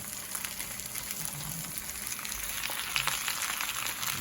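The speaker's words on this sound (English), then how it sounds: "All right, them salmon cakes is in there, sizzling away." Salmon cakes sizzle and crackle in a hot frying pan, a steady close hiss with scattered pops and spits that runs on without talk.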